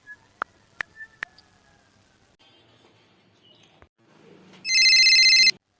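A telephone ringtone begins after a few clicks and taps, a bright electronic trill that is loud and close near the end of the clip.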